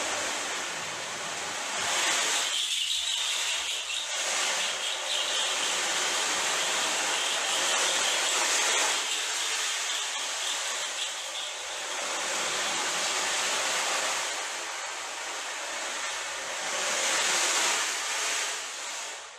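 Sea waves roll and crash in a continuous broad rushing wash that swells and recedes in slow surges, loud and close, with no voices.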